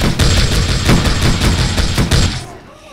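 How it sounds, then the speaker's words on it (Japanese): Rapid gunfire rattles in the survival video game 7 Days to Die, a loud, dense burst of repeated shots for over two seconds before cutting off abruptly. "一生懸命撃ってるけど。"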